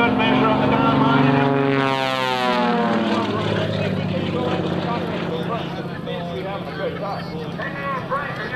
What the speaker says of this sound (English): Standing the airplane on its tail and sliding sideways through the heavens.